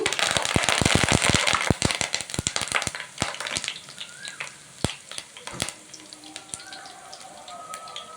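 Curry leaves dropped into hot oil for an Andhra-style bitter gourd egg fry burst into a loud, dense crackling sizzle that thins after a few seconds into scattered sharp pops and a soft hiss, close up.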